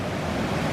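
Fast-flowing water of the Finnis River rushing past in a dense, steady roar, heard close and loud with wind buffeting the microphone.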